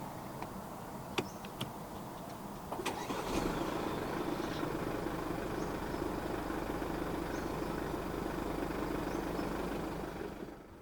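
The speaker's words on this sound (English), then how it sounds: "Put your foot on the brake and press the start button to the right of the steering wheel." A 2016 Mercedes-Benz GLE 250 d 4MATIC (W166) diesel is push-button started after a few faint clicks. The engine catches quickly and settles into a steady, moderately loud idle that continues to the end.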